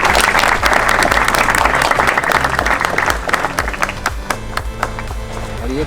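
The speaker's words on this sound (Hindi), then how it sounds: "जोरदार तालियां इसके लिए।" A hall audience claps loudly for a student placing third in an English mock test at a prize distribution ceremony, a thick burst of applause that thins after about three seconds into scattered individual claps over a faint musical background.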